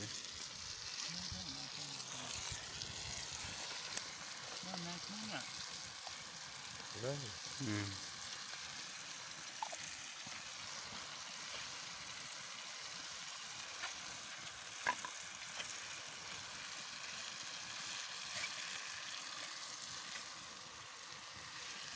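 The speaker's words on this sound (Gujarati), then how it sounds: "અહીંયા જો અમે શાક બનાવી રહ્યા છીએ" Undhiyu vegetable curry sizzles and fries in two cooking pots outdoors, a steady close broadband hiss lasting throughout with occasional stirring clinks, while voices talk briefly in the background early on.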